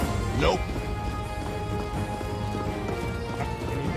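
Horse hooves clip-clop at a steady, moderate pace in the war game Conqueror's Blade, a commander's personal mount walking under continuous game music and ambience, with a brief whinny-like swoop near the start.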